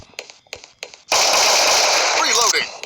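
Sustained automatic gunfire from the video game Crisis Action, loud and continuous for about a second and a half after a few short shots, with a voice speaking briefly over it.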